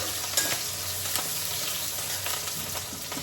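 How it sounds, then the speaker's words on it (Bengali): Fish pieces and lentil dumplings frying in a pan give a dense, steady sizzle with a few soft stirring knocks, moderately quiet and close, with no one speaking. "মাছগুলো সুন্দর করে ভেজে নিচ্ছি, বড়ি আর মাছ"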